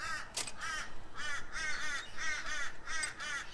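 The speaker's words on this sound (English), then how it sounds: "Piss off, you fucking crows." Several crows caw in a steady series of harsh, rasping calls, fairly close and loud, with no one talking.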